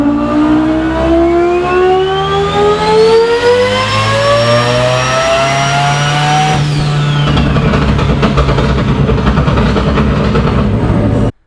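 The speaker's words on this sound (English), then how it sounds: "So now we're going to go wide open throttle." A turbocharged five-rotor engine car with a 119mm turbo at wide-open throttle on a dyno: one loud, steady howl that climbs in pitch for about six seconds, then cuts to a rough, lower roar.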